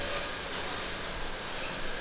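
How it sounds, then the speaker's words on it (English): An all-glass, futuristic-looking airport train rolls past with a steady rumbling hiss and a faint high squeal of wheels, close and continuous for the whole stretch, with no one talking. "But look at this futuristic looking train."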